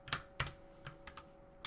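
Quiet clicks of typing on a computer keyboard come in a few irregular bursts of keystrokes, close and soft against a faint background hum.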